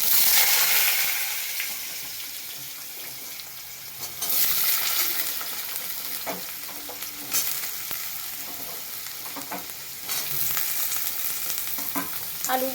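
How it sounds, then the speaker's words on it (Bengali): Potatoes frying in hot oil in a pan, a loud close sizzle that swells and eases as they are stirred, with occasional scraping and clinking of the spoon. "আলুগুলো দিয়ে আমি ভালো করে লাল লাল করে ভেজে নেবো"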